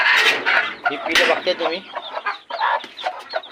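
Busy free-range chicken clucking and chirping fills the whole clip, with overlapping calls from several birds close by.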